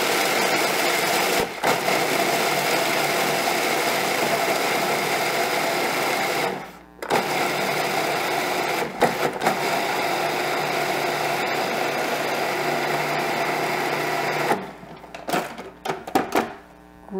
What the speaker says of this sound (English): I want to grind up the almonds before I add any of the other ingredients.